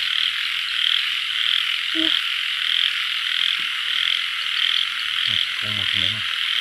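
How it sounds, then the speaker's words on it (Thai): Frogs croaking at night in rice fields in rural Isan, Thailand, a few close croaks, one isolated and then a quick burst near the end, over a constant loud insect drone. "ฟังเสียงกบ"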